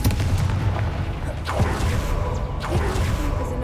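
Confringo fire spell blasting in Hogwarts Legacy, loud booming impacts with whooshing bursts at a steady pace against dense low rumble, no talk.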